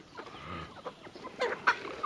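Soft clucks and low murmuring calls from White Rock chickens on a family farm, close by and fairly quiet, with a couple of sharper squawks near the end.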